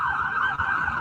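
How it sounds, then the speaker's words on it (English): Steady wailing emergency vehicle siren, loud and continuous for about a second, holding a strong tone with slight wavering pitch and no voices. "Oh, your sirens sound almost like American."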